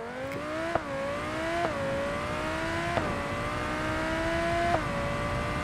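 A car engine in the BeamNG.drive driving game drones steadily and then revs up repeatedly as gears shift, a sustained mechanical whine with brief spikes at each change.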